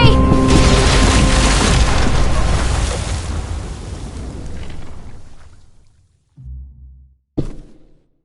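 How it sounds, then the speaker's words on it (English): A bomb goes off in The Walking Dead video game, a loud, deep booming blast that rumbles and fades over several seconds, then gives way to brief thuds after a pause. "the bomb!"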